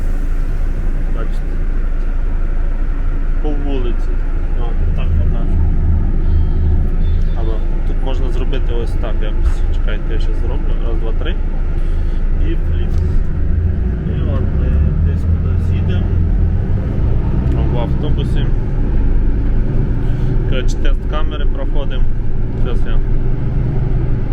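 Steady low rumble of a car cabin on the move, heading out on a family trip to the zoo, continuous road and engine noise with people talking over it throughout.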